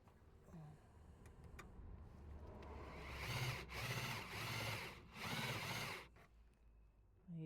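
Power drill boring through spot welds in the body metal of a 1971 Datsun 240Z, heard close as a few rising whirring bursts that grind steadily for a second or so each before stopping, with no voices.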